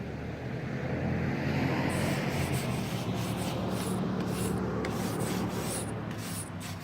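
Steady scrubbing of moss off a brick chimney, a continuous close rough brushing and rubbing texture that holds at an even level throughout with no talk.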